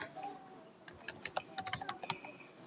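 Rapid, irregular keystrokes on a computer keyboard, close and fairly quiet, with a faint bird chirp in the background and no speech.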